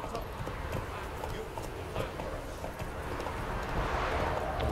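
Hoofbeats of Roach, Geralt's horse in The Witcher 3: Hearts of Stone, galloping as a steady clip-clop rhythm under continuous game ambience, with a voice talking over it.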